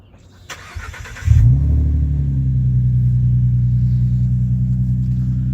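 A 2017 Ford Mustang with the 3.7 engine cold-starts with a short crank, then catches into a loud, steady, deep idle rumble that holds close by for several seconds.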